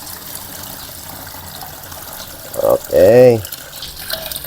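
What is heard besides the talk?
water running while washing leaves for cooking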